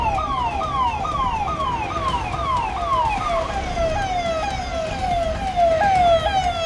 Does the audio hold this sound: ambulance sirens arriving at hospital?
yes